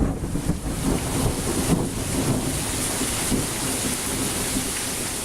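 Steady rain from a thunderstorm pours down with a continuous wash of noise and low rumbling, heard outdoors, with occasional gusts buffeting the microphone.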